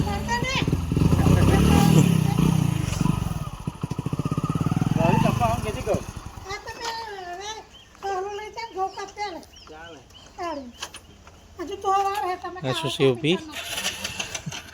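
A motorcycle engine cranks and sputters loudly for several seconds, then cuts out. Excited voices in Gujarati talk over it and carry on afterward.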